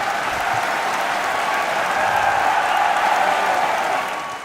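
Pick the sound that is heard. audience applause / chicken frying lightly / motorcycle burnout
audience applause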